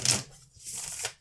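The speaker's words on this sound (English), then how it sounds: "it riffle shuffles nicely again" A This Might Hurt tarot deck is riffle shuffled close up, giving a quick crisp burst of card flutter followed by a softer settling rustle.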